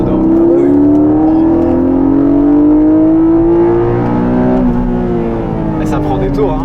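Porsche 718 Cayman GTS flat-six revving high on track, loud engine note climbing steadily through the gears with a brief shift dip, heard from inside the cabin with people talking over it.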